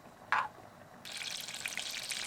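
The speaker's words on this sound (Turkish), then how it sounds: "Tereyağımın erimesini bekliyorum" Butter and half a coffee cup of vegetable oil melt together in a pan for a red lentil soup, giving a brief clink and then a steady, close hiss of gentle frying that carries on alone.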